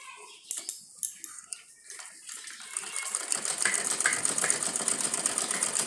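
Sewing machine running steadily after repair, stitching fabric with a dense rapid mechanical chatter that builds from scattered clicks into continuous close, fairly loud whirring.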